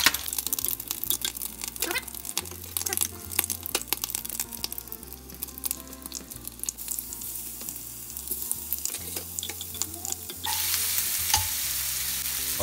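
An egg fries in a hot pan until crisp, a steady dense sizzle with crackling pops running throughout, growing brighter and louder near the end, with no voices.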